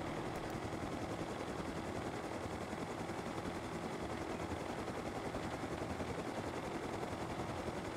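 A player's helicopter in the survival game Rust, a heavily modded server near a coastal town, gives off a steady, dense rotor and engine drone that holds unchanged the whole time, with no voices over it.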